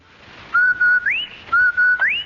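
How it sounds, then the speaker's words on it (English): The Rinso White whistle from an old-time radio laundry-soap advertisement: a clear two-note phrase that ends with an upward glide, whistled twice in a row, bright and close with nothing else over it. "That whistle. That's the Rinso White whistle."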